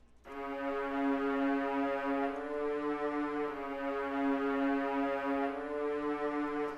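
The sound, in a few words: low synth string sound from Expand in FL Studio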